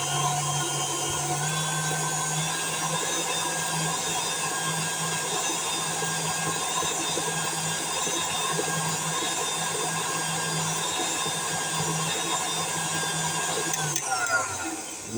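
Electric mixer beating Oreo cupcake batter, a loud steady motor whine with a continuous droning hum that runs unbroken for about fourteen seconds, then cuts off and winds down near the end.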